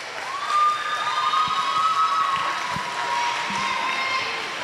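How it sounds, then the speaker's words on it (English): An audience at a school international festival applauds a Turkish folk dance, steady crowd clapping with some cheering and children's shouts, a voice heard over the noise. "Give it a round of applause for our Turkish folk dance."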